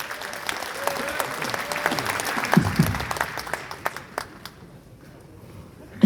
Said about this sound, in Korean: 자, 뜨거운 박수를 모시겠습니다.